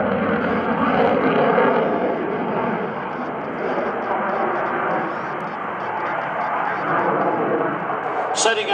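An F/A-18C Hornet jet fighter at an airshow demonstration, its engine roar a loud continuous wash that rises and falls slightly across the pass, under a public-address announcer's commentary.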